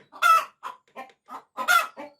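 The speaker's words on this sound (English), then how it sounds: "That's really nice chicken song, isn't it?" Backyard chickens clucking close by in a series of short, loud bursts, with two longer squawking calls among quicker clucks.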